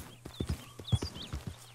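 Horse hooves clip-clopping in the Red Dead Online video game, a quick run of sharp, evenly spaced hoof strikes heard close and fairly loud, with no talk.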